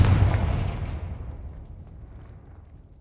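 A Confringo blasting spell explodes in Hogwarts Legacy: one heavy boom that rolls off and fades over about three seconds, with no voices.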